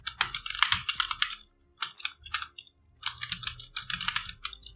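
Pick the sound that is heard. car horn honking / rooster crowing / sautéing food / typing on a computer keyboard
typing on a computer keyboard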